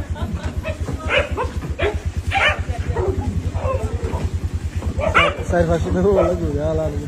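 Several dogs on Saint Martin's Island jostle over food, giving off repeated yips and short barks with whimpering, up close and mixed with a person speaking.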